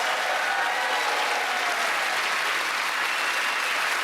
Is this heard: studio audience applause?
yes